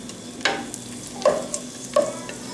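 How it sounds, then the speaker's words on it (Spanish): Chili slices fry in a pan for Mexican esquites, giving a soft continuous sizzle with three or four distinct scraping stirs of a utensil against the pan; the sound is close and steady, with no talking. "Y nada más voy a dejar a que se fríen un momento."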